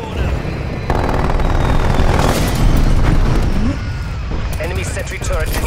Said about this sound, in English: Molotov going out.